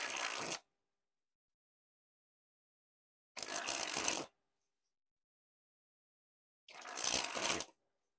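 Three separate bursts of Bicycle playing cards with an air-cushion finish being sprung from hand to hand, each a dense riffling flutter lasting about a second, with silence between them.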